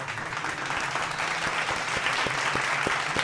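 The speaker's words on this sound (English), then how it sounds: "round of applause, guys, for Ferran and Casador." Steady applause from a crowd during the Club Brugge vs FC Barcelona Champions League match as substituted players leave the pitch, a dense even wash of clapping with a low hum underneath.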